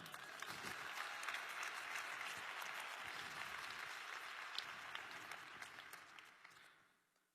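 Keynote audience at INBOUND 2016 breaking into applause, a broad, even roar of clapping from a large crowd that holds steady for several seconds and then tapers off quickly.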